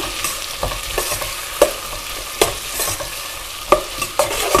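Onions fry with a steady sizzle in a pan while a spoon stirs them, scraping in sharp irregular clacks. The cook is making Nellore-style fish pulusu.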